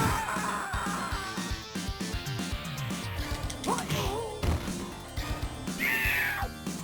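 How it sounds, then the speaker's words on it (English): A small cat meows after bolting out of a bin in the Vendetta arcade beat-'em-up, a short cry set among loud, busy game music and hit effects. "Little cat run out of the bin. He weren't an happy puss."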